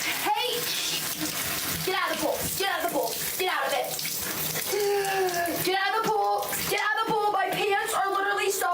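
Water spraying and splashing continuously for several seconds, loud and close, with a running, tap-like rush and scattered splashes that change over time.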